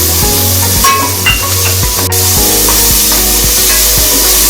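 Green chili paste fries in a pan, a loud continuous close sizzling hiss with a steady low hum underneath and no talk.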